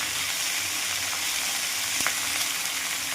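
Chopped mixed vegetables fry in hot oil with chilli, salt, cumin powder and turmeric, a steady close sizzle with a brief clatter near the middle and no voices.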